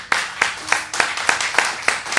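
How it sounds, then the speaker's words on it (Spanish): Rhythmic clapping in a church service, about eight sharp claps at a steady beat, fairly close and clear with no talking. "Démosle un aplauso al Señor."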